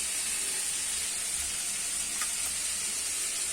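Vegetables frying in ghee for chire polao, a steady, soft sizzle and hiss running evenly throughout, close and fairly quiet with no voices.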